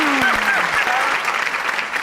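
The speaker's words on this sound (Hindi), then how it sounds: "तालियां" Studio audience at a music show applauding, a dense loud burst of clapping that fades slightly over two seconds, with a voice and a sliding tone briefly over the start.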